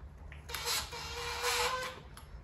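A screwdriver drives screws into the plastic pull-handle of a Victa Silver Streak two-stroke lawn mower, giving a faint whirring grind in two short bursts with quiet pauses between them.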